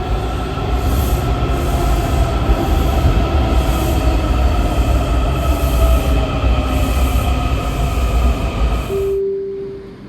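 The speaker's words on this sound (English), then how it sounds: "I'm about to get on a Blue Line train to Franconia Springfield" A Blue Line metro train rumbles steadily through a Washington Metro station, wheels droning and hissing, then fades out; a brief tone sounds near the end.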